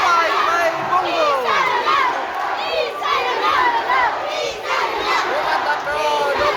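Spectators at a provincial volleyball match between Valencia City and Misamis Oriental roar and shout after a spike, a loud, continuous crowd din with rising yells and cheers throughout.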